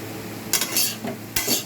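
A lid closing over a pan of roasting potatoes, two sharp metallic clanks about a second apart over a faint background sizzle.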